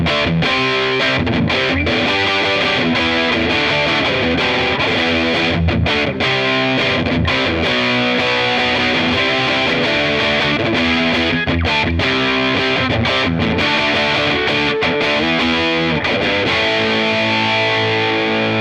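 Electric guitar through an MXR FOD Drive overdrive pedal plays continuous crunchy, distorted chords and riffs with a Marshall-stack texture, loud and thick, with no talking.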